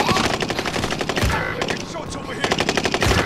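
Rapid automatic gunfire in a battle royale video game, dense bursts of repeated shots that run almost continuously, loud and close, pausing briefly near the middle before another volley.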